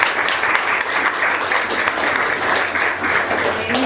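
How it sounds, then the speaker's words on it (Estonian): Audience at a science café talk on music and mood claps steadily, a dense, even round of applause filling the room for several seconds with no talk. "teeme siis aplausi Jaan Kõskile."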